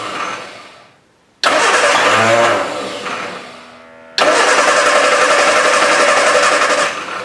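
An MG Midget engine running on one carburettor as fuel runs out, loud and close, cutting out and surging back in rough, uneven bursts that sound like stalling and restarting.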